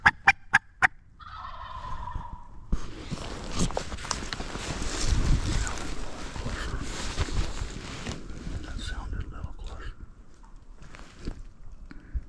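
Wild turkeys gobble outdoors; a few sharp calls open, then a loud rattling gobble, followed by rustling and movement, with fainter gobbles and clicks toward the end.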